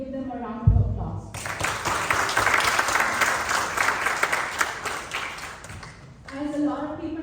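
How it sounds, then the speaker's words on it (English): Loud applause from a crowd swells after a brief voice and carries on for several seconds before a speaker resumes talking. "I want to encourage all of them to give them a round of applause."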